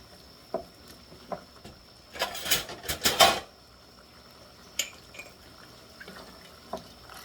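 Water poured from a container into a cooking pot for a large-fish escabeche, a short splashing rush lasting about a second with a few faint clinks before and after.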